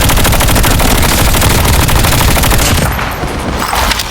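Sustained machine-gun fire in the Call of Duty video game, loud and continuous rapid rhythmic shots that thin out slightly near the end.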